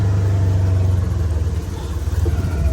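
A car engine runs steadily and loudly up close while the car turns around. The low rumble stays unbroken with slight fluctuations and no voices over it.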